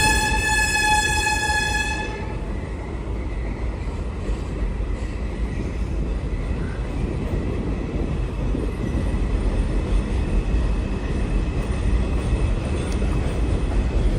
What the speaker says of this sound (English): So I'll let the train go by before I talk again.